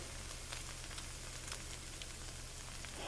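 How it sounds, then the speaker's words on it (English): Doritos Loaded snacks fresh from the oven sizzling on a tray, a faint, steady crackling hiss with tiny scattered pops, close and uninterrupted. "Listen to them sizzle."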